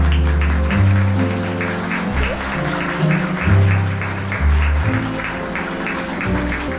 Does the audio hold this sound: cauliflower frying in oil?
no